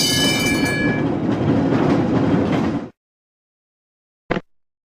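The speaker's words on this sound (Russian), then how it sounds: "Трамвай." A tram rumbles along the rails with clattering wheels and a thin metallic squeal at first, then stops abruptly, leaving silence and a short click.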